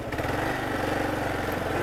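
A Kawasaki KLR motorcycle engine runs on rocky ground, its close, steady thumping putter holding an even rhythm for a couple of seconds.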